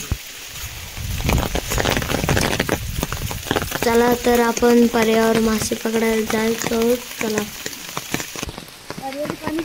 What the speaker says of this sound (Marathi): इकडं खूप पाऊस पडत आहे